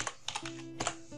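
Several quick key taps on a computer keyboard while entering a short word into an Excel spreadsheet, heard in a brief burst of uneven clicks with no talking.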